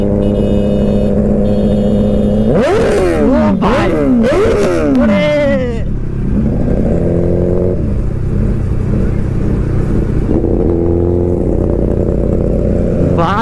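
Kawasaki Ninja ZX-10R superbike on a road, its engine roaring and revving in several sharp rising bursts near the start, then settling to a steady loud drone, with excited voices talking over it throughout.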